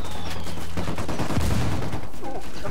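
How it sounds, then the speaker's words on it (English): Loud gunfire in Ghost Recon Wildlands, a dense rattling burst of rapid shots with heavy low booms, close and continuous throughout. "Somebody's shooting at me."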